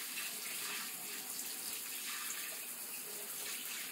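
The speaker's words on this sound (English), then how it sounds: "How long have you been rinsing your feet off?" Water runs steadily from a tap while someone rinses their feet, a constant soft hiss and splash with no pauses and no talking.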